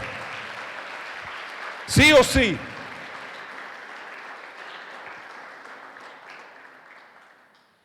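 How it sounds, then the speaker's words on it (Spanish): Church congregation applauding the Lord, a sustained wash of clapping that swells and slowly fades, with a voice briefly shouting over it near the start. "Dale un aplauso al Señor, aleluya"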